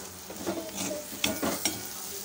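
Moong dal and grated coconut stirred in a pan with a little salt, a spoon scraping in a few soft sweeps over a faint steady sizzle, close and fairly quiet.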